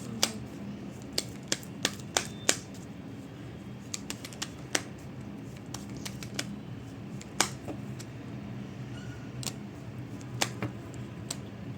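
Tarot cards being shuffled and drawn from the deck, a scattered series of crisp, close clicks and snaps from handled cards, irregular in rhythm, over a faint background hum.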